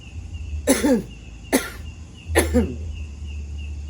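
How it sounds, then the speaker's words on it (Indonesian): Three separate coughs, close and fairly loud, spaced about a second apart, with a low steady hum in the background. "Ya, kita belajar untuk batuk saja, dibatukkan."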